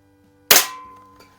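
A pump air gun fires a pellet at four pumps: one sharp, loud crack that decays over about a second in a quiet space, followed by a faint clack.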